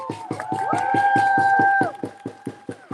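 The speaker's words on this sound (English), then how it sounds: "Please give him a round of applause" Rhythmic group clapping at a street protest rally outside the Egyptian embassy in London, steady beats of many hands with cheering voices and a sustained whistle-like tone over them.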